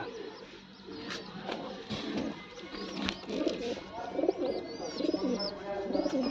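Soft pigeon coos repeat amid faint chirps and a low hum of background noise, fairly quiet and nearby.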